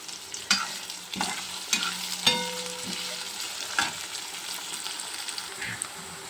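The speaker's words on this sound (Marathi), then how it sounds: "इथे आता कांदा आणि हिरव्या मिरच्या ह्या एकत्र कलसायला टाकलेल्या आहे." Chopped onion and green chillies frying together in a pan for methi matar malai, giving a soft continuous sizzle broken by a series of sharp spatula scrapes and taps at irregular intervals.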